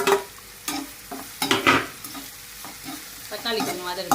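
Chopped tomatoes sauté in a pan for prawn thokku, a soft sizzle broken by a few scraping stirs of a spoon against the pan, close and fairly quiet.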